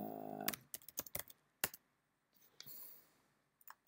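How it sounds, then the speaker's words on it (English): Typing on a computer keyboard at a Mac, a quick burst of sharp key clicks, then a pause and a few scattered taps, close and fairly quiet. "Type my name properly, that would help"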